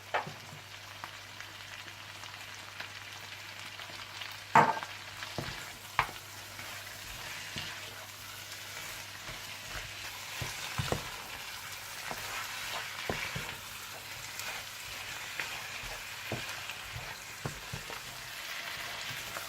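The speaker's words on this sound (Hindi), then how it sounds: "जब चाप्स मसाले में अच्छी तरह से मिक्स हो जाएं और भुन जाएं तो आप इसमें हरा धनिया डालकर मिला लें।" Mutton chops sizzle steadily in masala in a karahi, a soft continuous frying hiss with occasional clicks and stirring knocks from the pan.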